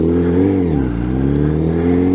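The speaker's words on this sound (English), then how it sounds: "It's a slip-on exhaust, it's not a full system. It's made out of aerospace titanium." 2017 Honda CBR1000RR Fireblade with a Graves aerospace-titanium slip-on exhaust, revving up close: a loud, smooth engine note rising, dipping briefly, then holding steady.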